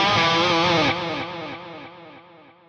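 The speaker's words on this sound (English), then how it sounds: "I've got a delay happening here. It's a tape delay." Electric guitar run through a tape delay on a Fractal Audio AX8, a sustained distorted chord ringing out as wobbly repeats trail behind it, each echo softer than the last, fading over a few seconds with no voices.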